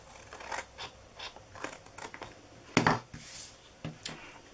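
Scissors cutting a paper gift box template: close, crisp snips in an irregular rhythm, separated by quiet pauses and soft paper rustles.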